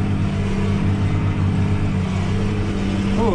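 Non-turbo farm tractor engine pulling a plough in a winter field, a loud, constant low diesel drone with steady harmonic rumble throughout and no speech.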